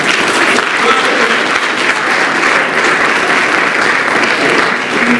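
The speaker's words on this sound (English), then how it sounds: "Give a big round of applause." Sustained applause from a large crowd at an award presentation, a steady dense wash of clapping that stays loud and even throughout.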